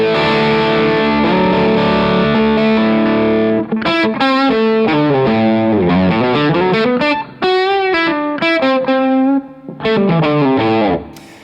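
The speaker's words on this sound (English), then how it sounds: "If I run the KingTone Mini Fuzz in its zonk mode into the obvious boost and overdrive, it sounds like this." Les Paul electric guitar driven by a KingTone Mini Fuzz in zonk mode into boost and overdrive pedals and a Rev D20 amp: thick, saturated fuzz chords ring out, followed by loud sliding single-note lines played close with no voices.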